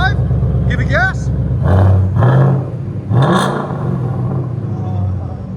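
Ford Mustang GT 5.0L V8 with an H-pipe and Flowmaster Outlaw exhaust revs up in a few loud, rising bursts of rumbling engine noise, with people talking over and around the revs.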